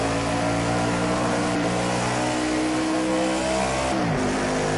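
Stock cars racing in Project Cars 2 roar continuously with layered engine drones, one revving up and then dropping in pitch near the end, loud and close with no talking.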